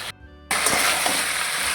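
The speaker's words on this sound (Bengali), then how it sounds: "তো লবণ দিয়ে আমি নাড়িয়ে চাড়িয়ে নিচ্ছি কিছুক্ষণ" Elephant-foot yam stalks cooking with salt and goat fat sizzle steadily in a frying pan as they are stirred. A brief quiet dip comes first, then a continuous close frying hiss.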